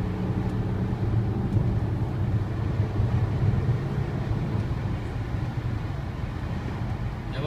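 Inside an Audi Q7 at about 120 km/h on a highway, a steady, dense road and engine rumble with wind noise fills the cabin. It stays loud and even throughout.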